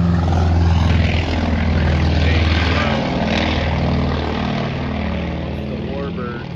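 Warbird aircraft engines drone loudly at the Oshkosh airshow, a steady propeller roar that fills the whole stretch with a throbbing low rumble, slightly fading toward the end.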